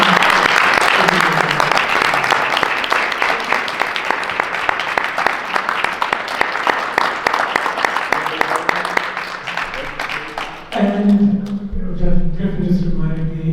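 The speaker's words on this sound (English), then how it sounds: "let's join an applause" Full audience applause in a lecture hall, dense and loud for about ten seconds, then fading as a voice begins speaking over the last few claps.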